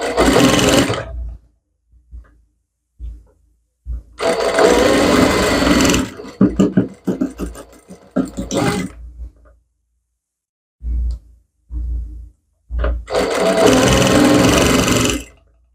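A home sewing machine stitching a spaghetti blouse with embellished work runs in loud bursts of rapid mechanical whirring, separated by quiet pauses and short clicks.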